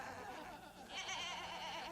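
Sheep bleating, with a single drawn-out, wavering bleat heard close and fairly loud after a brief low rumble.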